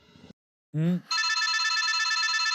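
After a short bit of speech, a telephone starts ringing with a continuous, bright electronic trill that keeps going loud and close.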